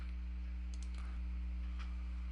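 Typing on a computer keyboard, a few soft scattered key clicks at close range over a loud, steady electrical hum.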